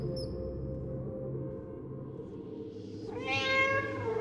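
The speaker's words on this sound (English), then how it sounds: "Shut up, cat!" A cat in the video game FNAF Into the Pit lets out a single clear, drawn-out meow near the end, loud and close, over a steady low ambient hum with no talking.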